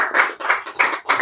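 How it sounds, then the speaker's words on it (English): A few hand claps at a DEF CON Furs convention talk, four evenly spaced, fairly loud claps close by in a quick steady rhythm, with no voices. "Let's get one more round of applause for Silverfish"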